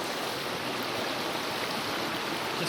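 Water in a remote trout creek rushes in a steady, broadband wash that stays even and close throughout, with no voices.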